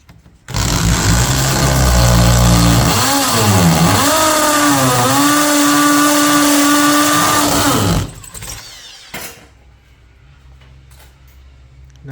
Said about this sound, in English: Next, drill the hole and then put in the wall plug.